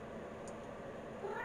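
A cat on special food meows once, briefly and close by, at supper time in an old farmhouse, eating alone in a bathroom, with steady low room noise around it.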